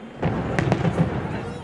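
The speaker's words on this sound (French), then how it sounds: "afin d'admirer, vous les voyez, les feux d'artifice" New Year fireworks over Monaco burst in a quick run of sharp pops and thuds, loud and fairly close, with crowd voices underneath.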